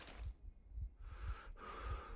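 A character in the video game Metro Exodus pants out of breath, with rhythmic heavy breaths and gasps that pulse about every half second over faint game ambience and no speech.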